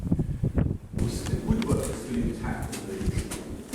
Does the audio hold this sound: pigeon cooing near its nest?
yes